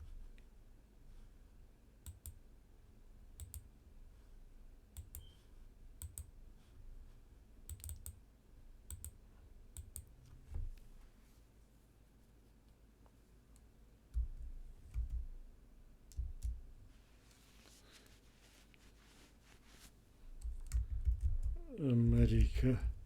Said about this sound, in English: See, I've typed in Captain America